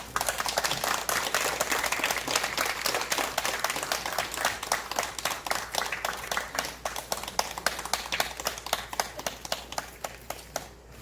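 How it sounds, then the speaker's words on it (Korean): Sustained audience applause at a traditional Korean jeongga vocal music performance held in a historic house courtyard in Gangneung, with dense clapping throughout that thins slightly toward the end. "현경채 교수님을 큰 박수로 모시겠습니다."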